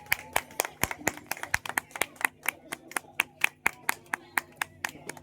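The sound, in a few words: audience clapping and applause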